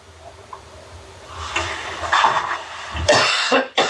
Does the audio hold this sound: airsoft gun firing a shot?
no